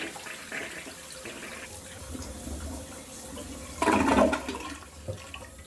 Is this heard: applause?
no